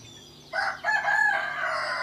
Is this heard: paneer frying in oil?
no